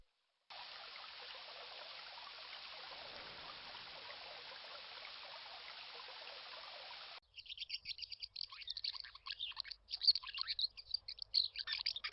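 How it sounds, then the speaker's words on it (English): Baby birds chirping in the King's Quest I computer game: a steady, hissing wash like running water plays first, then gives way to rapid, bright, uneven chirps that grow louder toward the end, with no talk. "The baby birds are very hungry."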